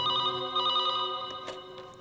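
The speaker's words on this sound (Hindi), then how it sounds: "कल सुबह अचानक ही राहुल का फोन आ गया" A telephone rings in a hotel room, a bright electronic tone that sounds close and clear for about a second, then fades with a few faint clicks and rustles.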